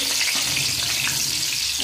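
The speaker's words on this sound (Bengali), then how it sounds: "মাছ ভেজে নেব।" Pieces of ভাঙ্গর fish fry in hot oil in a home kitchen, giving a close, dense, unbroken sizzle with faint crackles throughout.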